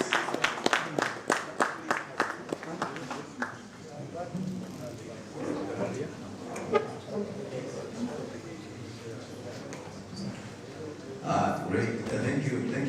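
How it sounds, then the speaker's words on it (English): Audience at a book launch event claps in a loud, rhythmic burst for a few seconds. The clapping then thins into scattered, quieter claps and murmuring, with a brief renewed swell near the end. "Another big round of applause for them, please."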